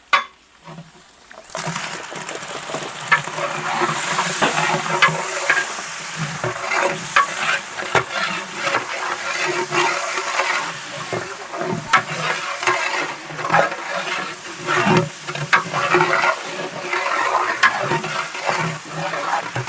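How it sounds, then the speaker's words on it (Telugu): Red tomatoes being stirred and fried in a large pot of chicken biryani for a big batch, loud continuous sizzling with repeated scraping strokes of the spoon, close and steady throughout, no talking. "వేగిపోతుందండి ఇప్పుడు ఎర్రటి టమోటా వేసేద్దాం"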